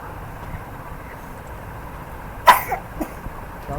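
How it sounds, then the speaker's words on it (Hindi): A person gives one short sharp cough followed by a few fainter throat sounds, close, over a low steady room hum. "खांसी क्यों हो रही है?"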